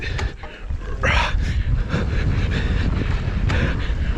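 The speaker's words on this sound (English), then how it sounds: "This is a headwind." Headwind buffeting a microphone during a fast downhill mountain bike run, heavy low rumbling gusts with sharp bursts, continuous and close, no speech.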